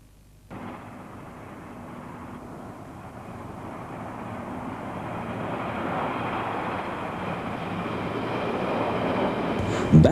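Interior of a diesel multiple unit train on the move, a steady broad rumble and rolling hum that slowly swells louder over the stretch, with a sharp knock right at the end.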